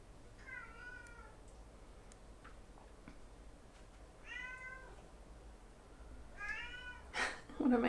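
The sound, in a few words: cat meowing and clawing at the door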